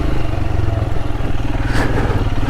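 Royal Enfield Himalayan motorcycle engine chugging steadily at low revs on a rutted green lane, loud and close, with a rough rhythmic thump and some clatter throughout.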